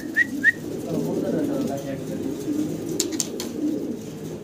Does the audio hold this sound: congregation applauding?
no